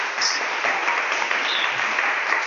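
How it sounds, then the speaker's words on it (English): Sustained clapping from a small audience, an even wash of hand claps heard throughout the short moment without a clear break. "And so extra round of applause,"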